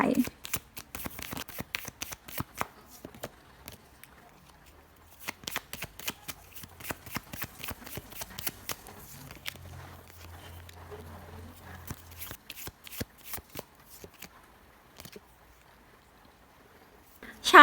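Oracle cards shuffled by hand in repeated quick bursts of crisp riffling and flicking, close and fairly soft, pausing briefly between runs. Someone speaks quietly between the bursts.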